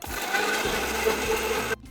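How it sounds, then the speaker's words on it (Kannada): A mixer grinder blends curry leaf chutney with tamarind and dates, a loud steady whirring grind that cuts off abruptly just before the end. "ನೋಡ್ರಿಲ್ಲೇ ಮಿಕ್ಸರ್ ಮಾಡ್ಕೊಂಡಿದ್ದೇನೆ ಚಟ್ನಿ"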